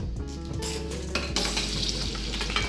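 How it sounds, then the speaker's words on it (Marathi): Jaggery cooking in ghee in a kadai for chana dal ladoo, a soft bubbling sizzle with a spoon scraping and stirring, close and quiet, with light metal clinks and no talk. "नंतर कढाईमध्ये 1 चमचा घी घेतला आणि गूळ घालून शिजवून घेते."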